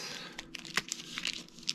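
Dominion deck-building game cards shuffled by hand at the start of play, a brief close flurry of papery riffles and crisp flicks, fairly quiet and with no talking.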